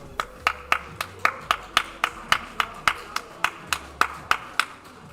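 Rhythmic group clapping from an audience cheering on Tori, a rider in an esports cycling competition at an inter-school cup final, steady beats roughly three per second with faint background noise and murmur.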